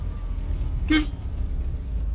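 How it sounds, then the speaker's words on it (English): A single short car horn honk sounds once, loud and close, over the low rumble of a running vehicle. "Oh, the horn is loud."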